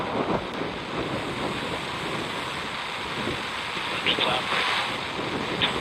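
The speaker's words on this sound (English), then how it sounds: "liftoff of the first United Launch Alliance Vulcan rocket" The first United Launch Alliance Vulcan rocket lifts off with a steady, broadband roar that rumbles continuously from a distance, with slight swells in intensity and no pauses.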